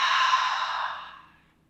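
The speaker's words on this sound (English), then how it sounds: "Filling the lungs with air, and then open the mouth, exhale." A single open-mouthed exhale during yoga breathing, a soft breathy rush that starts full and tapers away over under two seconds, close and alone with no talk.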